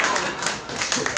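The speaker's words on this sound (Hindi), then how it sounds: "जोरदार जोर से बजाओ ताली।" Audience clapping at a mushaira Urdu–Hindi poetry recital, a dense, steady patter of many hands that carries on evenly for the whole short stretch at moderate loudness.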